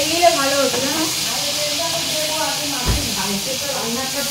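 A pressure cooker sits off to the side, giving a steady high hiss of escaping steam, while people talk nearby and their voices run over it the whole time.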